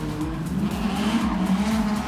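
Drift cars at the VicDrift championship roar past nearby, engines revving hard in a pulsing, rising drone with tyre squeal mixed in.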